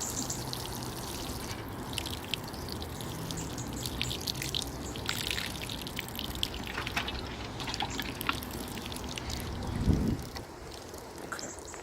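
Water poured from a watering can onto newly planted blueberry bushes in containers, a steady outdoor splashing and trickling that runs throughout, with a brief louder gush near the end.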